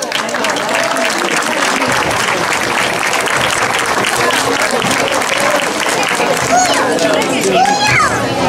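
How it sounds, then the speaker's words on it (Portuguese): A crowd applauds loudly and continuously at the opening procession and queen's parade, a dense wash of clapping mixed with lively voices and children's chatter, with whistles or squeals near the end. "Para ele, uma salva de palmas."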